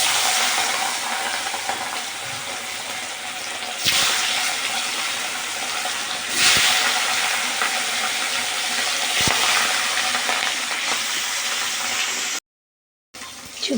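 Fish frying in hot oil gives a steady, dense sizzle that holds close and constant, with a few brief louder bursts and a short gap of silence near the end; no voices.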